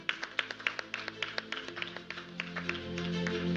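Audience applause at the MSME Honours 2024 awards ceremony in Bengaluru: a steady run of distinct, fairly close claps, which swells into a fuller, louder round toward the end.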